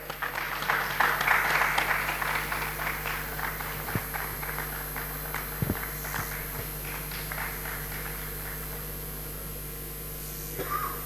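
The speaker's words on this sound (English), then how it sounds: "A big round of applause." An audience at a felicitation ceremony applauds, fairly faint and thin clapping with scattered individual claps and a few knocks over a steady electrical hum, without speech.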